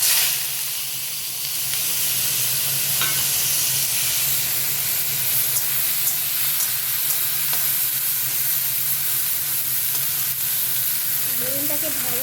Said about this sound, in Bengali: এই বেগুনগুলোকে আগে ভেজে নেবো।